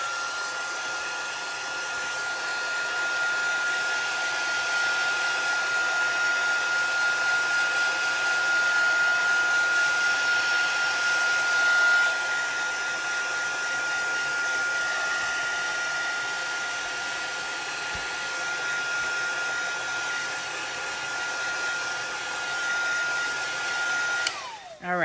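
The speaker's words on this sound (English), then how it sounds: "if you want to heat set it, you can take your heat gun to it" A heat gun blows steadily and loudly for about 24 seconds, heat-setting paint on a craft painting of a lily pond. The even roar with a faint whine stays constant throughout, then cuts off abruptly at the end.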